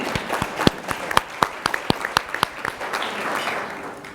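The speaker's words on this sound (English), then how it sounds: "I should stop now and let you" Conference audience applauding at a session on sustainability and biodiversity: scattered, fairly sparse hand claps with distinct individual strikes, close and moderately loud, lasting a few seconds.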